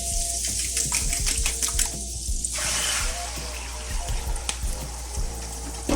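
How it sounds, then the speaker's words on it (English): Beaten eggs poured into a hot pan with oil and butter for a sucuk omelette, giving a steady hissing sizzle with a sharper splash early on and small pops throughout. "We're going to add our eggs."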